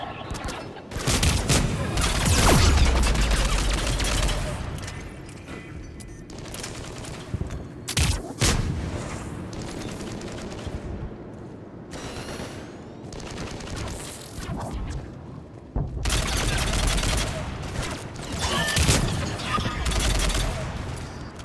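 Heavy gunfire in a Mass Effect 3 battle, with dense bursts of automatic fire and sharp shots running almost continuously, loud and close, with a few brief lulls and some voices mixed in.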